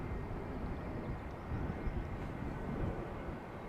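Airliner departing runway 36L at Amsterdam Schiphol, a steady low broadband engine roar with some buffeting, heard from a distance at moderate level with no voices.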